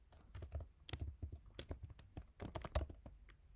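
Rapid keystrokes on a computer keyboard, close and crisp, coming in uneven bursts of clicks with short pauses between them.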